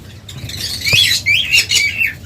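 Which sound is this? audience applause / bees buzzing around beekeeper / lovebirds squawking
lovebirds squawking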